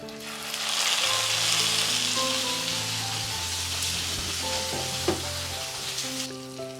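Sea bream laid onto basil leaves in a hot pan, sizzling steadily and close with a constant crackling fry, a few soft clinks and shifting sounds as the fish settles, no voices.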